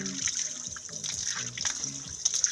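Fresh water runs at a home's drinking and cooking water source, an old spring handed down through generations. It makes a steady close trickle and splash with faint background noise and no talk.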